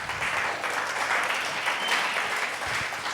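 A church congregation claps in praise of Jesus, a broad, steady wash of applause from many hands, fairly close and continuous throughout with no voices standing out.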